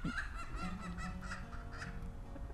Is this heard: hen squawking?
yes